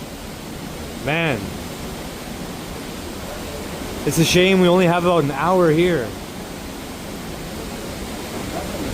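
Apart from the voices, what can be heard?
waterfall in a cave at Misol-Ha, Chiapas, Mexico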